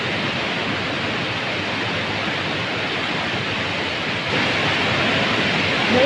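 Rushing floodwater surging high and fast through a low-lying area, a steady loud broadband roar with no break, growing slightly louder near the end.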